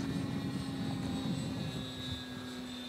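A Ben Buckle Super 60 low-wing model airplane flies on its first flight, its glow engine holding a steady, fairly distant buzzing drone that fades slightly toward the end, with no talking.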